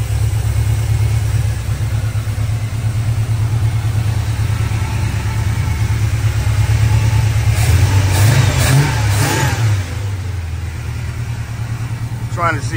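A GM Performance crate 350 V8 runs steadily after a cold start on a cold day, giving a loud, close, continuous low engine drone with a faint voice briefly over it.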